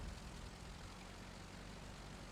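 Propeller aircraft engine droning overhead in the War Thunder combat game, a steady continuous hum that stays level and fairly faint throughout, with no voices.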